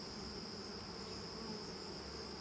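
Honey bees crowd around their queen on a hive frame, a faint, steady buzzing hum that continues unbroken.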